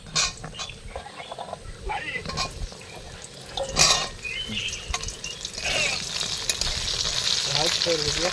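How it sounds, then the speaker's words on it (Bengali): Pieces of pointed gourd fry in hot oil, a continuous close sizzle broken by stirring clatter and sharper pops, with a voice briefly present. "পটলটা ভেজে নেবো"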